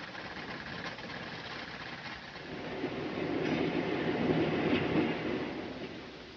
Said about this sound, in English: parallel controlled diesel locomotives transport it over a double set of tracks to the solid motor assembly building